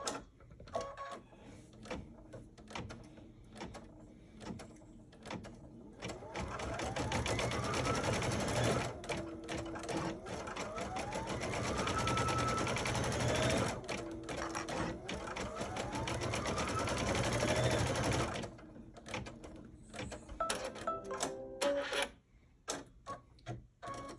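An embroidery-style sewing machine stitches lines on a quilted pie block for a pillow, a rapid mechanical whir running steadily for several seconds between shorter bursts and pauses, close and clear.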